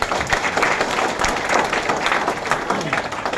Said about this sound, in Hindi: एक बार शानदार तालियां हो जाए